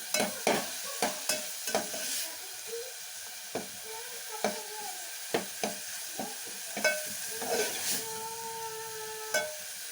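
Turmeric and spices sizzle in hot oil in a pan for tomato sambar, stirred now and then with a series of sharp scraping strokes over a soft frying hiss, close and fairly loud.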